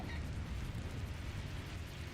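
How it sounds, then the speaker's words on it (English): An explosion sound effect from the visual novel game Root Double, a dense sustained roaring rumble with heavy low end that stays fairly even across two seconds, quiet overall and with no voices. "she heard an explosion from outside the room"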